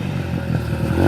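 Dirt bike driving past close by, a brief rattling engine drone with clattering mechanical noise that swells slightly as it passes, no talk.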